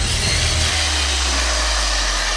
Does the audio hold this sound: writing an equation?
no